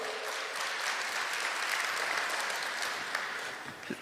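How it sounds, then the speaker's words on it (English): A crowd gathered at a political community event claps in steady, dense applause that lasts throughout and fades slightly near the end, with no voice over it. "Let's give a thunderous round of applause"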